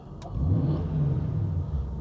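A Jaguar XK engine is briefly revved in a garage, a close mid-pitched rise in engine roar that holds for a moment and then eases back.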